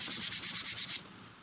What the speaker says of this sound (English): We're just trying to sand around the garbage drain until it's smooth.